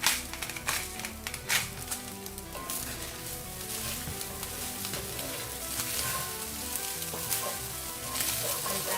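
Minced sausage sizzles and fries in a pot over a high flame, a steady, dense crackle with occasional stirring scrapes, close and loud, with no talking.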